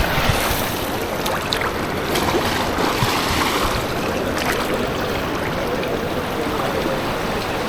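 Cold river water rushing at Pamba near Sabarimala, a broad continuous roar of flowing current with brief splashes, close and loud throughout, no voices heard.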